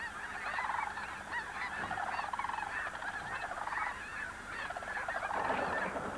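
Sandhill cranes calling outdoors, a chorus of repeated honking, bugling cries at moderate distance, overlapping in waves with steady background noise and no talking.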